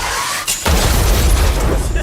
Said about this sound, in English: We wiped them all out in a single explosion!